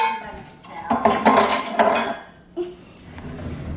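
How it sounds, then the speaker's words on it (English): Dishes, pots and cutlery clatter and clink as they are washed by hand, a cluster of close metallic and ceramic knocks followed by a lone later clank. "Doing the dishes."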